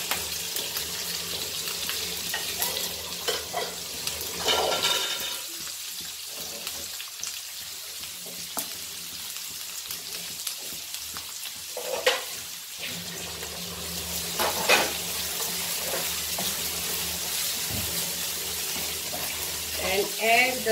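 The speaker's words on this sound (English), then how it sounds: "So first we'll fry our onion." Onion frying in a pan gives a soft, continuous sizzle and crackle, fairly faint, with a few louder spits and pops scattered through.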